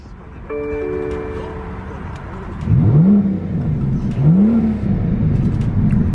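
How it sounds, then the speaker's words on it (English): A 2018 BMW M760i's V12 starts with a brief electronic chime, then fires up and revs twice in rising sweeps before settling into a loud, close idle. "Go ahead and power on that V12."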